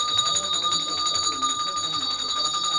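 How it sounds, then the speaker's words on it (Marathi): Small hand bell rung during a Hindu puja reinstating a family deity, a steady bright metallic ringing held throughout, with voices murmuring beneath it. "घंटी वाजवा."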